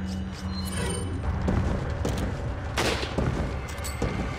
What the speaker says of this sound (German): Toller Schuss, Leon.